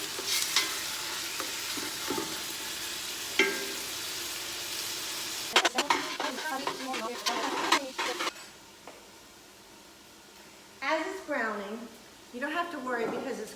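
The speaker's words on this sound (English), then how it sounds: "all of the meats into the pan and let them cook. Breaking them up as you go along." Minced meats fry in a pan for a traditional Bolognese sauce, sizzling steadily while a spoon stirs and scrapes to break them up, with bursts of speech over the frying in the latter half.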